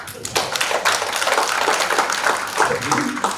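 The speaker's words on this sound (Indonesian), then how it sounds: "Tepuk tangan begitu" A congregation applauds during a midweek church service, brief scattered clapping from a modest crowd with murmuring voices mixed in.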